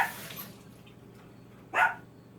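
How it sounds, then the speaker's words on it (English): A dog barks in the background of a home kitchen, one faint bark at the start and a louder single bark near the end, with running water and quiet room noise between. "Don't mind the dog barking in the background."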